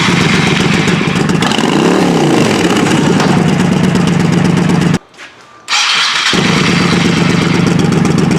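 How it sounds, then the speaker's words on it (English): A 1995-1996 Honda Shadow ACE 1100 motorcycle with a freshly rebuilt carburetor fires up and revs loudly up close, its engine note rising and falling, then cuts briefly silent before the engine roars again. "We can start it and we can rev it up and see how it returns to idle"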